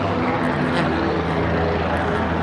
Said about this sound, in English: that helicopter's loud